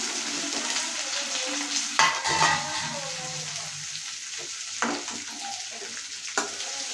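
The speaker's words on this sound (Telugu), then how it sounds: "ఈ మూడు బాగా వేగిన తర్వాత మనం దీనిలోనికి బెండకాయలను యాడ్ చేసేసేయాలి" Okra fries in hot oil in a pan for Andhra-style bhindi fry, giving a steady sizzle. Spoon scrapes and stirring clinks break through it now and then.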